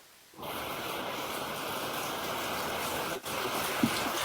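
After a brief quiet moment, rain and rushing water start up as a steady, dense hiss that continues evenly, with one tiny break near the end.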